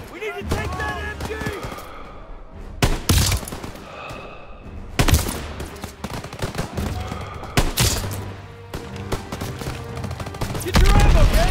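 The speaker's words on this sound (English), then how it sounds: "They've got us pinned! We need to help our squad clear the area! You got it, sir. We need to take that MG!" Machine guns and rifles fire in WWII video game combat set in the Hürtgen Forest in 1944, with loud, ragged bursts and sharp shots cracking repeatedly while voices shout in between.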